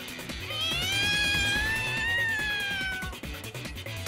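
Cat meowing as a drama CD sound effect, one drawn-out, rising and falling meow that is loud and close, heard alone over a faint background.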